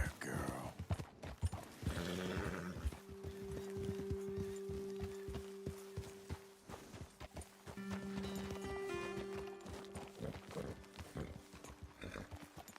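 Horse hooves and a whinny in Red Dead Redemption 2: clopping hooves on a trail under ongoing dialogue, with a brief neigh near the start and a sustained musical tone in the background.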